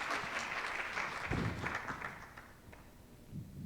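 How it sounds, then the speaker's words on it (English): Audience hand clapping at a maternal mental health summit, a dense burst of applause that peaks around the middle and then thins out, tapering to scattered claps near the end. "let's just give them another hand clap"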